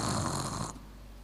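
A person imitates snoring with a steady, loud, rough breathy rasp that holds for most of a second and then cuts off, close and alone.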